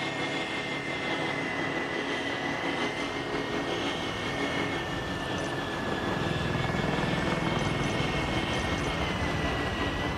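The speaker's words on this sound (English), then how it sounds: "Sending out a recon drone." A recon drone flying in Call of Duty MW3, a steady rotor-like mechanical hum and rumble that holds throughout and grows slightly louder near the end, with no talking.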